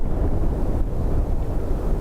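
Strong wind buffets at Dublin Airport, a steady low roaring rush of gusts against the microphone, filling the short stretch with no other distinct sound.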